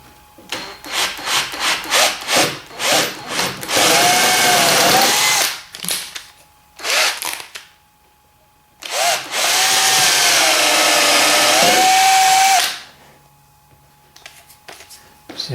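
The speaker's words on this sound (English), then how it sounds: "I'm going to drill this original hole here through to this part here." A power drill bores a hole through wood for a dowel joint, sounding in two long, loud sustained whines with a rising pitch, each preceded by short rubbing and tapping bursts, and no talking.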